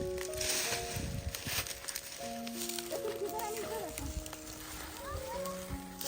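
Wind blows outdoors near a house garden compound as a steady, soft rushing and rustling noise. Voices talk and chatter over it throughout.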